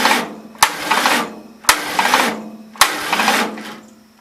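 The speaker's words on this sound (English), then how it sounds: "It's out of gear. I just want to see if it turns over." A rebuilt Delco starter cranking an out-of-gear Gravely engine without fuel, three separate loud grinding bursts about a second each with a sharp clunk at each start and short pauses between.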